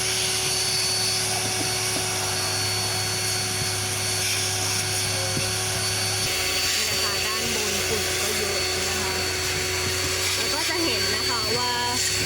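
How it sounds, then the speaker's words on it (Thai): A vacuum cleaner sucking dust from the interior of a 2019 Toyota Yaris, a loud continuous whine and roar that shifts pitch midway as the nozzle moves, with someone talking faintly over it. "เราจะดูดฝุ่นทำความสะอาดภายในรถให้นะคะ"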